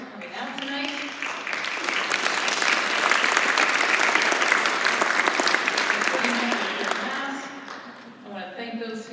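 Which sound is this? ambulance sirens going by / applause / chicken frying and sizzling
applause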